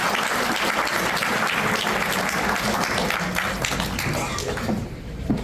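Applause from a campaign event audience for a Boca Raton mayoral candidate, a dense, loud, even clatter of many hands that holds steady and then thins out near the end.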